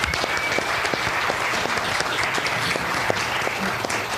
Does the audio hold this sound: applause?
yes